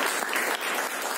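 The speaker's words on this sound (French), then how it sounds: "on peut l'applaudir également" Dense, steady applause fills the room for the organiser of an academic colloquium and round table, a continuous wash of many hands clapping at close range with no gaps.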